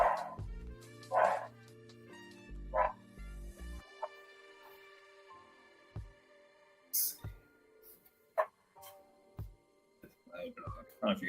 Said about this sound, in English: There's a very loud dog barking.